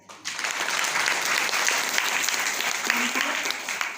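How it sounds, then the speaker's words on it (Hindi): A church congregation at a Sunday fellowship meeting breaks into steady clapping after a brief pause, a dense, even patter of many hands that carries on without letting up. "भाई के लिए ताली बजा दो"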